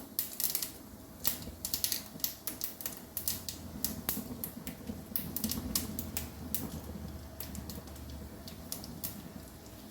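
Mustard seeds splutter and pop in a little hot oil while tempering for dal, a dense run of sharp irregular crackles and snaps over a low sizzle, close and lively throughout.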